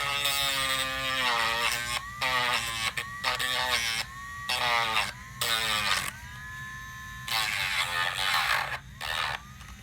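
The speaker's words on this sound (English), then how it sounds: "I'm going to take my Dremel and I'm going to sand off the sharp edges." A Dremel rotary tool sands the sharp cut edges of zip ties, its high motor whine rising and falling in short bursts as it presses on and lifts off the plastic, loud and close with brief pauses.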